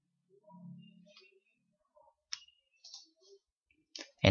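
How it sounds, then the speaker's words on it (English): A computer mouse clicks on a download button during an Epson L300 printer reset. A few faint, sharp clicks stand out against near-silence. "Then click download."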